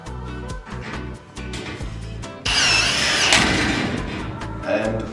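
A power drill whirs as it drives a STUDBITE screw into a trapeze tray, a loud sustained run beginning midway after scattered knocks and handling, close and steady to the end.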